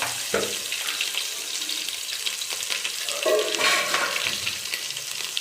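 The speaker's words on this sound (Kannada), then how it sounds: "ಚೆನ್ನಾಗಿ ಫ್ರೈ ಮಾಡ್ಕೊಳ್ಳೋಣ ಈರುಳ್ಳಿನೂ ಕರಿಬೇವು" Onion and curry leaves frying in a pan for restaurant-style pepper chicken dry, a steady close sizzle with crackling bursts and a stronger flare of spitting partway through, no voices.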